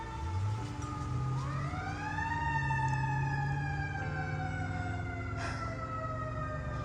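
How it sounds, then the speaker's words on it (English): Emergency sirens from neighbouring fire and police stations wail past a home garden, rising then holding a long sweeping tone at moderate distance, with an overlapping siren layer and no talking. "So if you hear sirens"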